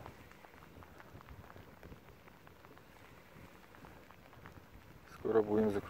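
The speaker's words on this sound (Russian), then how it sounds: "Дождь льет." Rain pours steadily at dusk beside a dam where someone is fishing with a spinning rod, a soft continuous patter that is faint and close, with a short burst of louder noise at the end.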